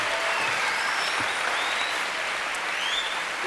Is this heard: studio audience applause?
yes